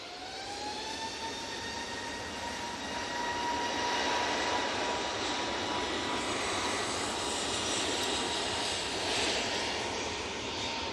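An EasyJet airliner at Manchester Airport spools up its engines, a steady roar with a whine that climbs and then holds, moderately distant and heard alone.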